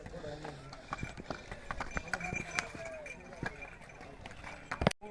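Horses and mules clip-clop on the mountain trail of the Tungnath temple trek near Chopta, Uttarakhand, a steady patter of hoofbeats under people talking nearby.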